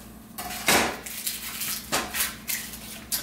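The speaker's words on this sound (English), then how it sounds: "let's chop up some veggies" A kitchen knife chops vegetables on a cutting board for pesto with basil, giving a handful of sharp, irregular clacks and knocks close by, with no voices.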